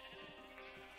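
Sheep bleating in the Minecraft video game, a faint, steady wavering bleat that carries through the whole moment without any talk over it.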